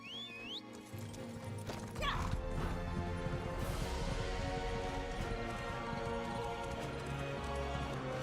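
Hooves of a horse mount in the video game The Elder Scrolls Online clop rhythmically in a steady gallop over a soft musical backdrop, with a brief whinny and some effects sounds early on.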